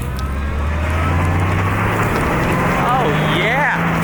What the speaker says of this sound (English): Let's try a donut with the new 3/4 throttle method.